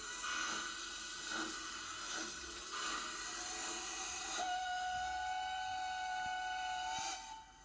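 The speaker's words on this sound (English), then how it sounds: "The train is now leaving the interpretation station." A train pulls out, its wheels clattering and rumbling steadily while sustained whistle tones sound over the top, loud and continuous before fading at the end.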